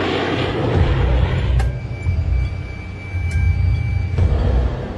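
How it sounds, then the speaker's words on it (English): Two F-16 fighter jets approach a hijacked-seeming airliner circling in a holding pattern over Athens, heard as a steady, loud low-frequency aircraft engine roar that swells and holds for several seconds without voices. "2 F-16s have been scrambled to intercept the renegade plane."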